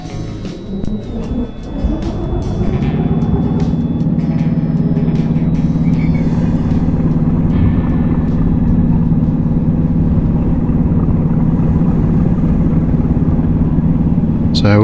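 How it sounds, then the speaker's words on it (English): A diesel railcar engine in the Diesel Railcar Simulator video game, on a modded route, starts up after a brief, quieter stretch and settles into a loud, steady, droning idle that runs unbroken to the end. "Set forward. Start the engine."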